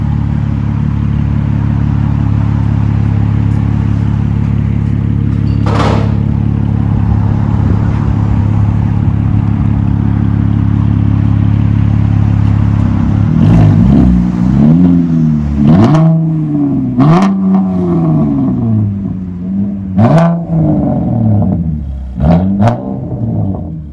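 Chevy Camaro 3.6L V6 convertible with muffler and resonator removed for straight pipes, idling with a steady deep drone, then revved in a series of sharp, loud throttle blips that rise and fall, with no talk.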